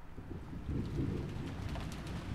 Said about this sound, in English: Then, the sound of thunder, and the sound of the falling rain and wind.